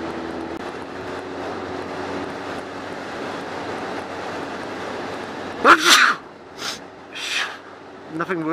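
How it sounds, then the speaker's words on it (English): A sudden sharp sneeze inside a helmet bursts out over steady engine and wind noise, followed by a couple of quieter snorts and breaths. "Nothing worse than sneezing in a helmet."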